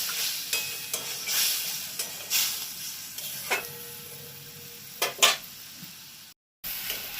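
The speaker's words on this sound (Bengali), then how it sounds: "দেখুন গ্রেভিটা ফুটে উঠেছে।" Gravy for potol kofta bubbling and sizzling in a pan, with a steady soft hiss broken by scattered pops and spits, a couple of sharper crackles near the end, close and moderately quiet.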